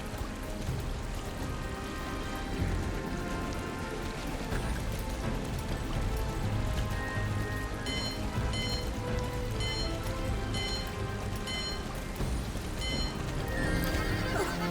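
Hooves clip-clop steadily at a gallop in the video game Star Stable, with a horse whinnying, against a constant background hiss like rain, and no talking.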